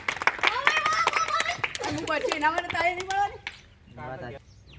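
Children clapping during a langdi hopping-game challenge: a quick run of sharp, close hand claps mixed with excited kids' chatter and shouting, then talking continues after the clapping stops.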